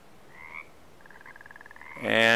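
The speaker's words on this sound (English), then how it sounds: "And now I hear the frogs" Frogs croak from a lakeside in the Russian Fishing 4 fishing game, a faint repeated croaking pulse building steadily before a louder, brighter burst of sound swells in at the end.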